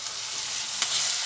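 Curry leaves and ginger garlic paste with a little turmeric fry in a pan while being stirred. Close, steady sizzling runs throughout, with a faint scrape of the spoon partway through.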